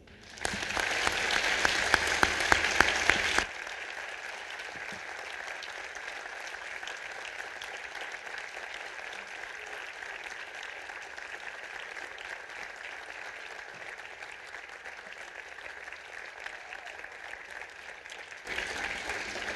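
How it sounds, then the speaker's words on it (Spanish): An audience at a book launch breaks into loud applause that gradually thins to softer, steady clapping, then swells again briefly at the end. "un doble aplauso para María Olivia"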